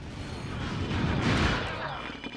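Turrets in Ratchet & Clank 2 fire in a steady, rumbling barrage of booming blasts that fills the whole moment at a fairly loud, continuous level.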